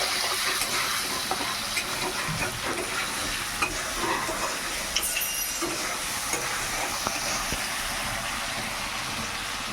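Potatoes with salt frying in a pan while being stirred, a steady close sizzle broken by scraping and clinking of the spatula throughout.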